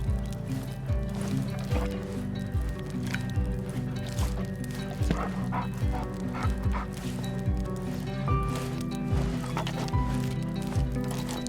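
A team of sled dogs in The Red Lantern game barks and whines in short, repeated yelps over a steady backdrop of music and ambience.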